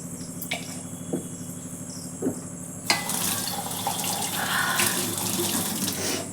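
Water runs from a tap in a steady stream for drinking, starting after a few faint clinks and continuing loud and close over a background of crickets.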